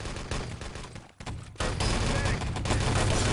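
Dense gunfire and explosions in the online shooter game Enemy Territory during a tournament match, continuous rapid bursts layered loud and close, with a commentator's voice mixed underneath.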